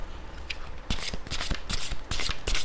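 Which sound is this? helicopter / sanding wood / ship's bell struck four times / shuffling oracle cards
shuffling oracle cards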